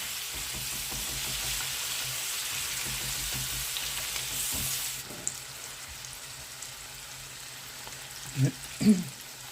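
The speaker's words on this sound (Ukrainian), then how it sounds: "Нам потрібно її підсмажити теж до гарного рум'яного кольору." Steady broadband sizzle of onions frying over high heat in a hot pan, continuous and close, with a few soft clinks of stirring near the end.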